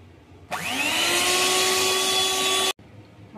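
A hand blender whirs through mango pulp for aamras, spinning up with a rising whine and then holding a steady, close motor hum for about two seconds before stopping abruptly.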